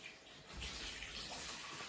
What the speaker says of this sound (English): Then I'm going to pour in some water.